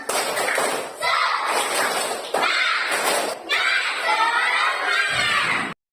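Fifth-grade elementary schoolchildren in a classroom perform a spirit clapping chant, loud group shouts in bursts punctuated by sharp, rhythmic claps and thuds, ending abruptly.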